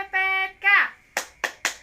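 Children in an Indonesian elementary school classroom clap a short rhythm: a chanted voice, then three sharp, close handclaps in quick succession.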